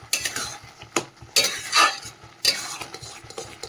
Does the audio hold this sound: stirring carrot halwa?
yes